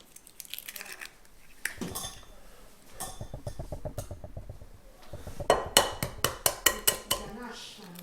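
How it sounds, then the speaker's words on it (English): Eggs cracked one after another into a bowl for keto brownies, giving a run of sharp clicks and taps on the bowl edge near the end, following clinking dishes and talk. "I'm going to break the 3 eggs and put them in."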